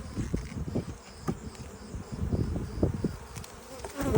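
Honey bees buzz around full hive frames during a transfer into a full-sized hive box, a dense, close, wavering hum with individual bees swelling in and out.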